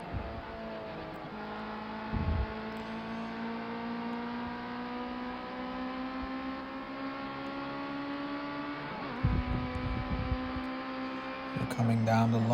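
A race car engine in Project Cars 2 holds a steady high whine, climbing in pitch through each gear and dropping at the shifts, heard close from the cockpit over a race start with faint background noise.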